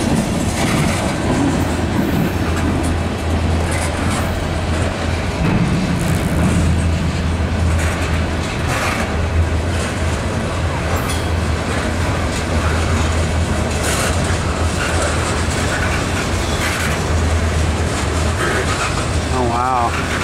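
A long train rolls past close by, a steady loud rumble with a low drone running through the whole stretch, while people talk over it.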